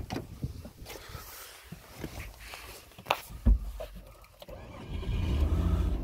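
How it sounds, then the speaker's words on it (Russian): A car engine cranks and starts using an Autowit SuperCap2 jump starter, a brief rising burst followed by a steady, loud low idle rumble that fills the last seconds. "И машина завелась"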